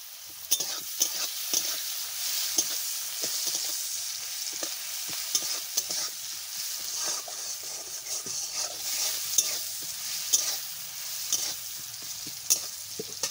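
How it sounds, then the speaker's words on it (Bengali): Onions sprinkled with salt fry in a pan for egg curry, a soft continuous hiss broken by frequent crackling pops and occasional spoon scrapes, fairly quiet and close. "লবণ দিয়ে দেবো যাতে ফটাফট পেঁয়াজটা একটু নরম হয়ে যাবে, ফটাফট ভাজা হয়ে যাবে।"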